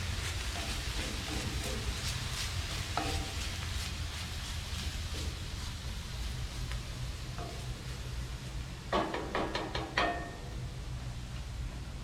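Garlic frying in oil in a cast iron pan on a camp stove, a steady soft sizzling hiss with faint crackles and a few clinks of a utensil near the end.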